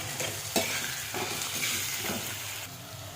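Ginger garlic paste fries in a pan for murighonto, a steady close sizzle broken by several sharp stirring scrapes of a spatula.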